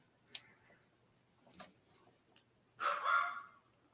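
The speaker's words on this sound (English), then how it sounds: "Yeah, and their dog upstairs barking." A dog upstairs gives three separate barks, well spaced and muffled by distance, the last one longer and louder, in an otherwise quiet room with no talking.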